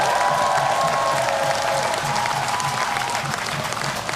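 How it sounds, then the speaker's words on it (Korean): An audience gives sustained applause, a dense wash of clapping with some crowd noise at steady loudness for several seconds. "그들에게 박수 한번 보내주십시오"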